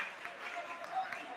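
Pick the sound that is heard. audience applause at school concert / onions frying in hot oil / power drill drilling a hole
audience applause at school concert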